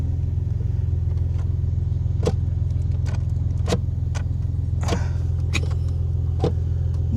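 A previously submerged Maserati drives along. A steady low engine rumble runs underneath while sharp clicks and knocks break through at irregular intervals.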